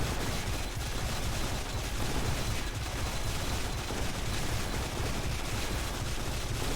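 Spells firing rapidly in the video game Spellbook Demonslayers: a dense, unbroken barrage of bursting magical shots, steady and loud with no pauses, no voices.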